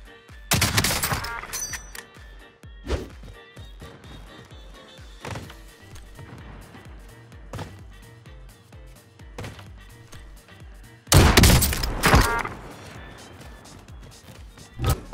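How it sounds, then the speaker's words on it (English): Warzone game gunfire, sharp bursts of shots with two loud clustered volleys near the start and later, separated by scattered single cracks and thuds; no talk. "Synchronized shots."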